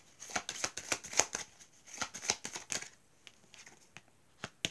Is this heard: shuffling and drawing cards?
yes